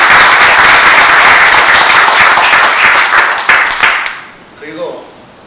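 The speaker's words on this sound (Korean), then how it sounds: "우리 다 같이 오늘 박수를 보내시기 바랍니다" Loud, dense applause from a lecture audience fills the first four seconds, then fades out quickly, leaving faint voices at the end.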